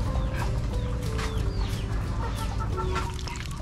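Chickens cluck and rooster calls sound steadily on a farm where new chicks are hatching, a continuous busy flock chatter with occasional higher calls, fairly close and loud, with no talking.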